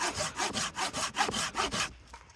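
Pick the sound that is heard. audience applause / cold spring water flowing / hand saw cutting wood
hand saw cutting wood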